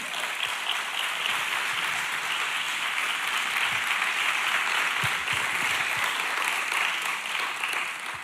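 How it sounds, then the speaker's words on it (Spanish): A church congregation applauds during a Sunday sermon, a dense, steady wash of clapping from many hands that holds evenly for several seconds without pause. "Un aplauso para el Señor Jesús."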